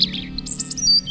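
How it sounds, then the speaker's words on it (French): Small birds singing in a wooded setting: a quick run of high, bright chirps and tweets close by, over a low steady hum, with no talking. "des petits oiseaux qui chantent"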